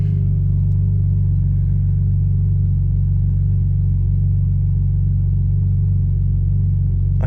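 A car engine idles steadily and loud after all four holes in its exhaust were patched. The low rumble holds even and continuous with a slightly uneven idle and no talk.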